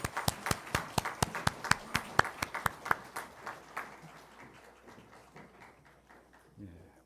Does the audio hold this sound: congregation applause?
yes